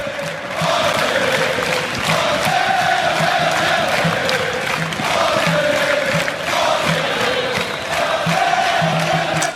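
Terrace Australis supporters at a Socceroos football match chant in unison, a loud, continuous crowd roar with rhythmic rising and falling voices filling the whole stretch.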